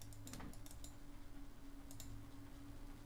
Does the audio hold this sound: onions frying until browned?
no